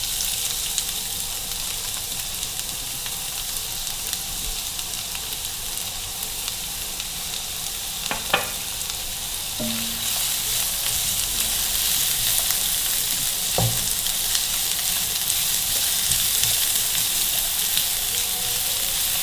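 Onions frying in about two tablespoons of oil give a steady, even sizzling hiss, joined by a few brief clinks of a utensil partway through.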